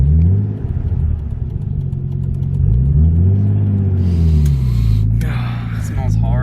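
A Nissan Skyline engine revs up to full boost with rising and falling harmonic sweeps, loud and close from the cabin, followed by a hissy turbo burst; people talk partway through.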